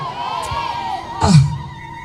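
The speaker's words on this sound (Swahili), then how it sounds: "Ongeza kupiga kelele nyingi za shangwe na vigelegele" A church congregation at a shared-meal service, crowd cheering with a brief swelling burst of shouts and ululation rising over a murmuring background, a voice audible beneath.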